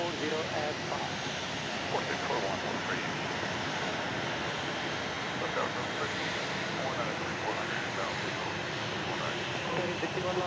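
Airplanes at Dallas Love Field Airport in the morning, a broad continuous jet engine roar rushing like surf, steady and moderately distant throughout.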